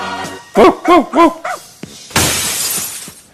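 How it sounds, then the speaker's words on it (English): Glass shattering as a sound effect: a loud, bright crash with a ringing, scattering tail, after a few barking yelps, dog-like, heard close and alone. "That was glass breaking."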